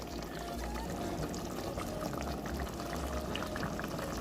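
A cup of hot water goes over pork chops and rice for a pilaf and gets stirred, producing a close, continuous bubbling, pouring wash with low rumbling.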